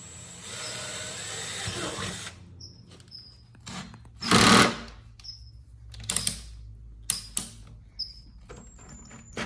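A drill bores a small pilot hole while a road shower is built in a garage: one short, loud burst of drilling set among light clunks, taps and quiet gaps.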